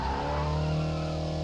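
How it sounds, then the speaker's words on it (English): A car doing a small handbrake turn in the video game Automation, a steady engine drone with a sustained tire squeal, continuous and moderately loud. "Small handbrake turn again."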